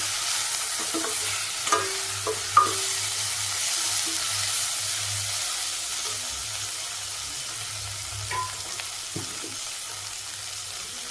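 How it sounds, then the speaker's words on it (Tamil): Chopped tomato added to sautéed onions in a pan for a lentil-dumpling kuzhambu, giving a soft continuous sizzle with a few spoon taps and scrapes near the start, then a steady, quieter frying hiss. "ஒரு தக்காளி கட் பண்ணி வச்சுருக்கேன் அந்த தக்காளியை போட்டுக்கலாம்"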